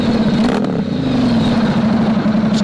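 A 2019 Ducati Diavel S fitted with a Termignoni full exhaust runs loud and close, holding a deep, steady engine drone with a slight rise in revs and no talking.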